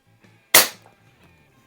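An AR2078 air rifle with an adjusted trigger fires a single sharp, loud crack close by, with quiet before and after it.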